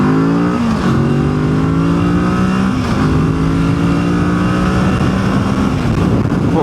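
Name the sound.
Kawasaki Z650 motorcycle riding with new monoshock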